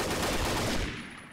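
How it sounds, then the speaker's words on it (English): Gunfire in a video game sounds as a brief, dense, loud burst that fades out within a second and a half. "Okay, now we can shoot."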